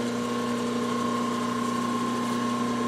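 A milling machine at 1100 RPM cutting with an ACCU-cut carbide end mill, giving a loud, steady mechanical whine with strong sustained tones and a continuous grinding texture, no talk.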